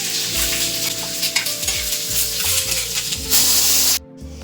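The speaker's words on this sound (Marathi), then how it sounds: "चांगला भाजून घ्यायचा कांदा खोबरं" Onion and coconut roasting in a pan for a ground masala, a continuous close sizzle with stirring under steady background music that cuts off near the end.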